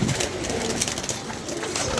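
Pigeons coo and shuffle in a loft, a continuous busy texture of soft cooing and fluttering close by, with no talk.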